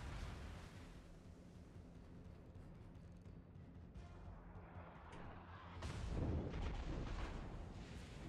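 Torpedoes strike a ship in a naval video game, giving deep rumbling blasts with a sustained low roar that swells into a heavier explosion near the end.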